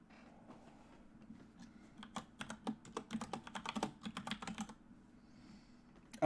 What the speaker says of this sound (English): I'm trying to type on my phone using my keyboard.